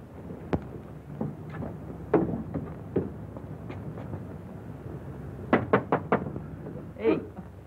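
Knocking on a door in a 1942 East Side Kids film, scattered dull raps spread through the scene with a quick cluster of several knocks near the end, set against room ambience.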